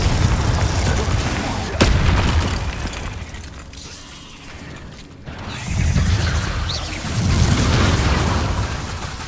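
Confringo blasting spell explosions in the Hogwarts Legacy video game hit as heavy booms and crackling bursts, with a sharp crack near two seconds and rumbling blasts later, loud and dense over a busy combat soundscape.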